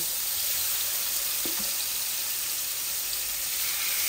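Rohu fish frying in a pan, a steady bright sizzle and hiss of hot oil running throughout with a faint knock partway through, close and even.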